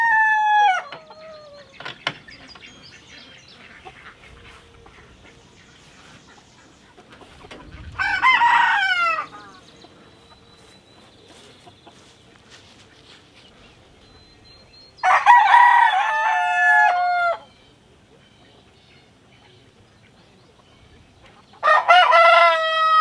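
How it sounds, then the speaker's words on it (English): Roosters in a backyard flock of 21 chickens kept in a hoop coop crow loudly three times at regular intervals, with soft clucking and scratching from the flock in between. "Let's let the chickens out and see what they do."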